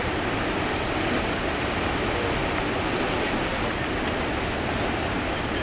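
Krimml Waterfalls in Austria, the country's highest at 380 meters, plunge in three stages, producing a steady, dense roar of falling water that fills everything without a break or pause.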